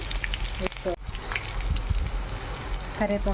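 Eggplant pieces and curry leaves frying in a pan for an eggplant and tomato curry, a constant close crackling sizzle with someone speaking over it.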